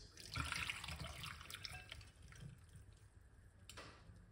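Strained liquid of steeped ginger, cloves and garlic is poured off, giving a faint splashing trickle that is strongest at first and then thins into quieter dribbles and drips.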